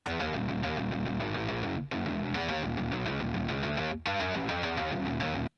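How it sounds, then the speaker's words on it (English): A gritty, distorted FM8 synth lead plays a fast, busy riff that sounds much like an overdriven guitar, loud and dense, pausing twice briefly before repeating. "I found this preset on the FM8 that sounds like a really distorted guitar, and I played this nasty riff on it"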